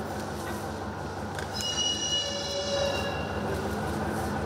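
Newly delivered diesel locomotives, built in Kazakhstan and bought by Moldova, roll in at a station, giving a continuous rumbling rail noise with metallic wheel squeals rising midway and no voices.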